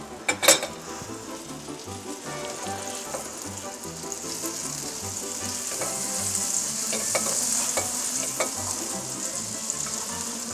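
Half a stick of butter melting in a frying pan, a steady crackling sizzle with sharp pops that grows slightly fuller over time, with no one speaking.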